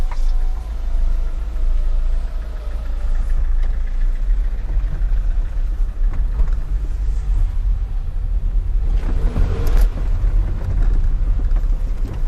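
An old Samsung SM5 sedan on a short test drive, steady low road and engine rumble with a broadband rattle from the rear, growing louder and harsher for a moment near the end.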